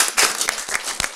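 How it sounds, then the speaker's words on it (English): A small audience in a group discussion claps briefly, a short scatter of close, uneven handclaps with a few sharp individual claps standing out. "I think we clap for that."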